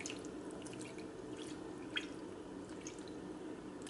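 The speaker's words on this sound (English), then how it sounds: "I'm just going to baste it with a half a cup of vinegar" Half a cup of vinegar poured over pig feet and tails for basting, faint wet drips and trickles over a quiet, steady background.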